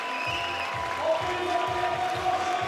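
Crowd at a lead-climbing World Cup final in Chamonix applauds and cheers, with Italian fans joining in; a steady wash of clapping and voices sits under a rhythmic low thumping, fairly loud throughout.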